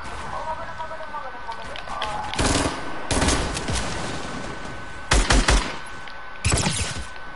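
Bursts of gunfire in the video game Fortnite, Season 6, coming in several loud, short volleys separated by quieter stretches of background game noise.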